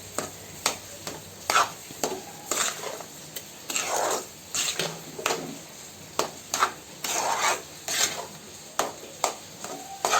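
A spoon stirs sugar into semolina for rava kesari in a pan, making a series of scraping, rubbing strokes at a fairly regular rhythm, close and moderately loud, with faint sizzling between the strokes.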